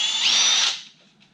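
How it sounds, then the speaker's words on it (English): A power drill bores a hole through a carbon fiber side skirt for a Viper at slow, steady speed, a close, loud high-pitched whine with grinding that runs about a second, then tapers off. "Notice that I'm not going full speed on the drill bit."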